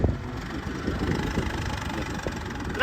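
An old 1970 model tractor engine runs steadily close to the microphone, with a rough, continuous rumble and some wind noise.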